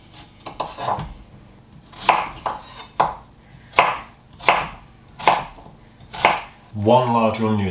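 Potatoes chopped with a knife on a cutting board during home pastry-week baking, a run of crisp, close knocks in uneven rhythm with no talk, ending in a brief rattle of kitchenware.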